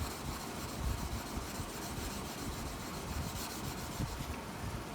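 A hand tool's bevel is rubbed on an abrasive sharpening surface, giving a steady, close gritty rasp that runs on without a break.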